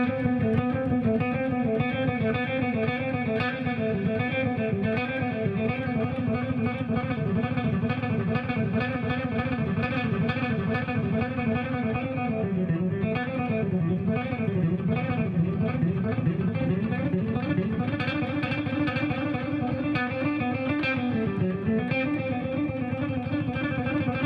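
A sustained, effected electric guitar plays continuously, with winding melodic fragments and bends over a steady wash of tone, loud and close, with no talking.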